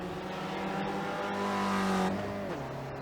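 Spec Racer Ford race car in a racing game finishing a qualifying lap at Brands Hatch, its engine a steady droning whine, close and loud, with a pitch drop near the end as it eases off.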